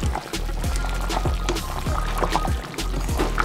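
Birria meat being stirred in a pot of liquid, with repeated sloshing, liquid swirls and soft scrapes against the pot bottom, close and steady through the clip.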